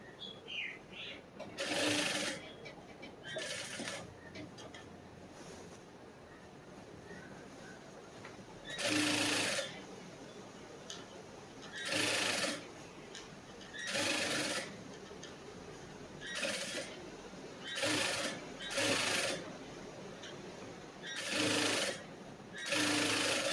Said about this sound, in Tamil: இன்னும் ஒரு தையல் மேலே போட்டுடலாம்.